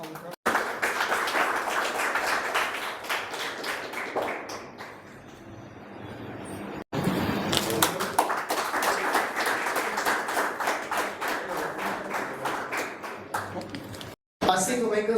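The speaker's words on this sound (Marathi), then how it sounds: "जोरदार टाळ्या" Loud, sustained clapping from an audience at an award ceremony in Solapur, a dense rattle of many hands that runs on for several seconds, dips briefly, then swells again strongly until it cuts off near the end.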